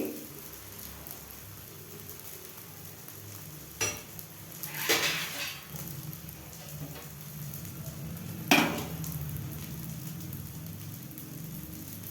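A wheat flour vegetable dosa cooks on a pan over a low flame, giving a steady soft sizzle with a few scraping and clinking spatula strokes in between.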